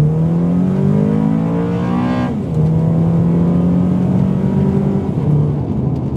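Modified automatic Honda Accord Euro accelerating hard in VTEC, a loud, close engine note climbing steadily, then a brief drop at the upshift before it pulls and rises again, with no talk.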